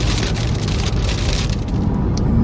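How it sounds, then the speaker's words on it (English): Heavy rain pounds steadily and loudly on a car driving through a thunderstorm, a dense, unbroken roar with road noise underneath. "Rain is getting much heavier."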